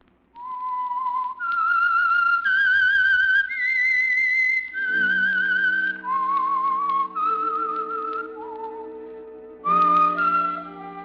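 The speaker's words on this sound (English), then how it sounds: "That whistle is your signal for the Whistler." A lone whistler carries the eerie theme melody of The Whistler radio mystery show, clear sustained notes stepping up and down, then joined by an orchestral backing in the second half.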